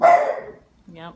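A single short dog bark sounds nearby, followed by a brief spoken word.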